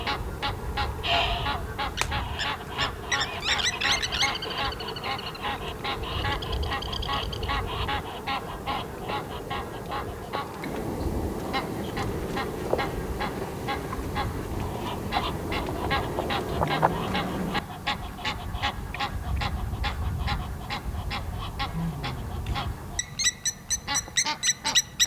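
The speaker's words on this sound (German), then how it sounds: "während in der Vogelwelt Streitigkeiten für Radau sorgen" Waterfowl squabble noisily at an evening waterhole at a Namibian camp, a loud, continuous jumble of goose-like honks and duck-like quacks that overlap without pause.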